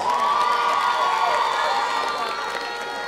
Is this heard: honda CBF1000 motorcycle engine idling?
no